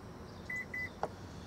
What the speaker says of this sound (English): You just hold this button down until you hear all the beeps.